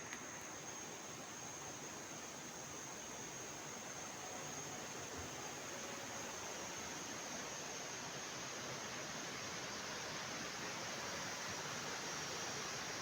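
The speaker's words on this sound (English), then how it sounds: "This is the waterfall in Đà Lạt." A waterfall in Đà Lạt roars as a steady, dense broadband rush of falling water, loud and continuous throughout with no voices.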